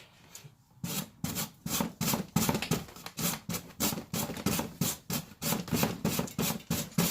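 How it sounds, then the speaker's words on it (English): Vegetables are scraped back and forth on a hand grater while making salad for bearded dragons and uromastyx, a steady series of rough rasping strokes close by, about two per second, with no voices. "you continue to grate it until it's all gone"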